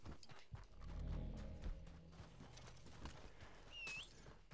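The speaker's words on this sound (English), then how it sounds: "You foul horse." Horse hooves clip-clopping in an uneven rhythm, close and fairly loud, with a brief high whistle-like sound near the end.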